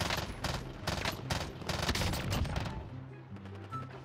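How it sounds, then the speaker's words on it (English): Gunfire in Call of Duty Warzone (Cold War) comes as dense, rapid automatic bursts that rattle on for several seconds, then thin out into a quieter tail, somewhat distant and muffled. "he's shooting straight above me, and the bullets are hitting me"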